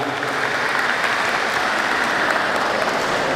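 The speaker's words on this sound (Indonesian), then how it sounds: "sambil diberikan tepuk tangan." An audience at a youth basketball tournament claps steadily through a gift presentation, a dense and even wash of applause that holds at a constant level from start to finish.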